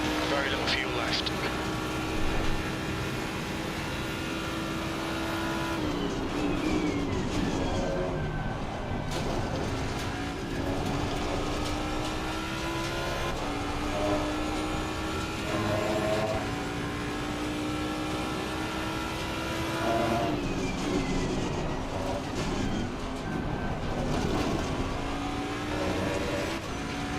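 A Ford Mustang race car engine at Imola in the racing game Assetto Corsa Competizione howls through repeated upshifts and downshifts around the lap, loud and continuous, with someone talking over it.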